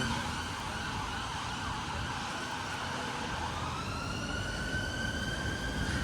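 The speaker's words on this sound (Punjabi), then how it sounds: "ਐਂਬੂਲੈਂਸ ਨੂੰ ਦੇਖ ਲਓ ਰਾਹ ਛੱਡ ਦੇ" A wailing ambulance siren sweeps up and down steadily, fairly loud over the rumble of passing traffic on a UK street.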